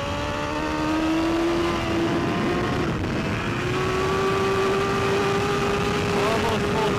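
A BMW race motorcycle at the AFM Thunderhill track runs at almost full throttle, a loud steady engine whine climbing slowly in pitch under heavy wind rush, heard close from the rider's position.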